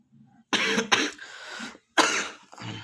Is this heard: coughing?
yes